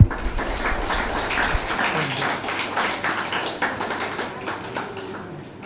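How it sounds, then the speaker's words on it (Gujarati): Dense, steady clapping from an audience at a school student award ceremony in Porbandar, filling the whole stretch and easing slightly toward the end. "હવે કોઈ તાળીઓના ગડગડાટ સાથે વિદ્યાર્થીને પ્રોત્સાહિત કરીશું."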